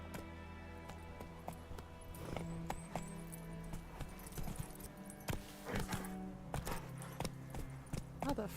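Horse galloping in The Witcher 3, with fairly quiet, uneven hoofbeats and jangling tack over a low ambient hum, a few louder thuds toward the end.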